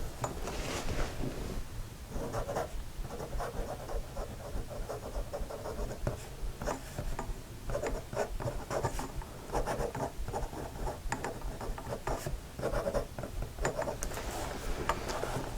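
Nib of a vintage Waterman Ideal fountain pen scratching across paper, a close, continuous soft scratch with regular rhythmic strokes and little pauses between words.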